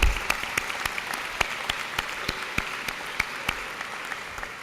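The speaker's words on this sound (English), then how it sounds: "A round of applause for everybody that made this possible" An audience at a 2016 high school graduation ceremony in Central Square applauds in a large hall, a dense wash of clapping with sharp individual claps standing out in a steady rhythm, fading slightly toward the end.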